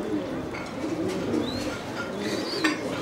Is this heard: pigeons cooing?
yes